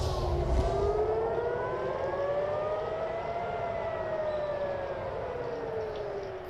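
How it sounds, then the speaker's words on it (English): Air raid sirens sounding across Israel during Iranian missile retaliation, with a long steady wail that rises and falls slowly over a noisy rumbling background and no voices. "some of the sirens and explosions that have been heard across Israel"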